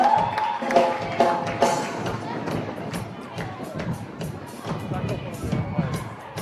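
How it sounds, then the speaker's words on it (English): A crowd at a Pacific Military Cup rugby sevens finals match cheers and roars steadily, and excited shouts rise over a commentator's voice. "We heard the call from the crowd."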